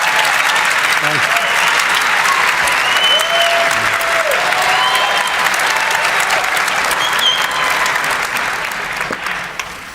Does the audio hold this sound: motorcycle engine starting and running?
no